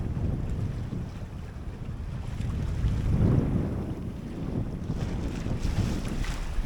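A sailboat under way fifty miles offshore in fog with winds around 12 to 14 knots and early whitecaps, steady low wind rumble buffeting the microphone over a constant wash of water and waves.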